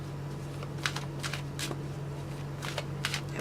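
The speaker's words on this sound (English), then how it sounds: "when I was shuffling the card, 2 cards flip over" A deck of tarot cards is shuffled close by in short riffling bursts, several quick flurries separated by brief pauses, over a low steady hum.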